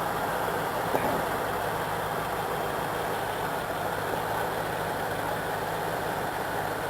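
Chevrolet Camaro Z28 engine idling while it warms up, a steady, even rumble heard close and alone, with one faint click near the start.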